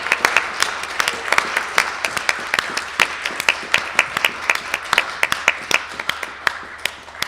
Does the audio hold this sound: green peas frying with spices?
no